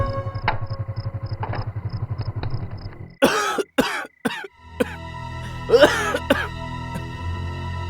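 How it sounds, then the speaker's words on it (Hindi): A woman coughs several times in close, harsh bursts, with an engine-like rumble running beneath at the start and a steady hum afterward, in a Hindi-dubbed action-romance film scene. "तुम्हें खांसी है ना?"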